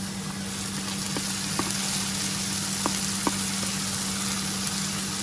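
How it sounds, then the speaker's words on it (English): Steady sizzling of mushrooms frying in butter in a pan, continuous and close, with a few faint clicks and a constant low hum underneath. "Always nice to have a bit of butter when you're going to be frying mushrooms"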